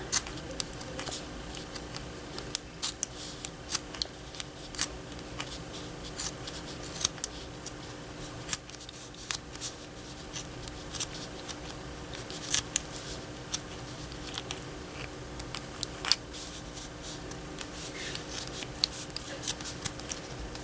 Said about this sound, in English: So I can get closer and cut any of this that I don't want off.